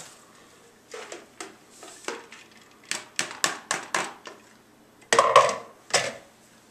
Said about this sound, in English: Now we're going to take the kale and put it into the bowl.